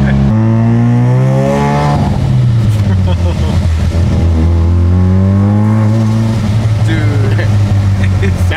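A high-performance car revs loudly at a large BMW car show, its engine pitch swelling and falling in long sweeps over several seconds, with crowd talk mixed beneath the steady roar.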